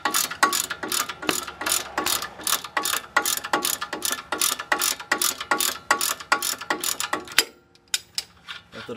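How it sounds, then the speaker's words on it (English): A ratchet wrench backs out the lower rear brake caliper bolt on a Lexus IS, a rapid run of crisp close clicks in quick bursts that stops near the end, leaving faint rattles. "using the brake bar, use the ratchet. Removing the bolt on the bottom."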